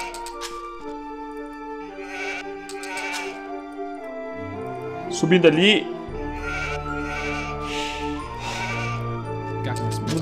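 Sheep bleating repeatedly in Age of Empires 2, several short game bleats over a bed of game music, with someone talking in Portuguese over them.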